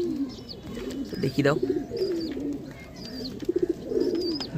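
A pair of adult Andhra pigeons coos in repeated rolling bursts, close by, with someone speaking briefly over them and faint chirps from other birds in the background.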